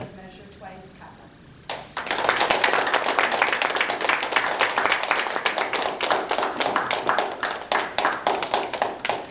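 Warm applause from a Toastmasters club audience welcoming a speaker, many hands clapping steadily and close for several seconds after a brief lead-in of talk.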